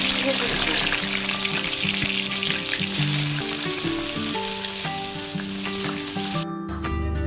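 Salted eggplant (brinjal) slices fry in hot oil with a loud, dense, continuous sizzle close by, and a steady tonal background runs underneath.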